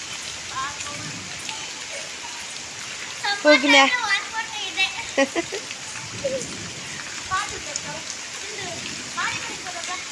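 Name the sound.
rain falling in Bangalore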